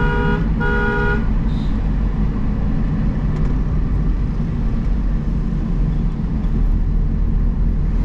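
A 1988 Toyota Corolla's horn gives two short honks close by while the car is driven, followed by a steady engine and road rumble.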